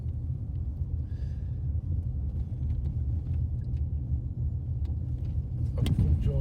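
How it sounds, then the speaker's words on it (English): A car drives slowly over rough roads around the outside of a prison. Its low, steady rumble is broken by faint rattles and jolts as the vehicle wobbles over the uneven surface. "what we're going to do is we're going to drive around it"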